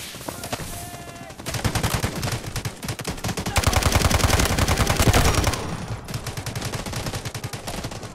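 Sustained automatic gunfire in the mobile shooter Delta Force Mobile, dense rapid rattling bursts that swell louder in the middle and ease off toward the end, close and continuous.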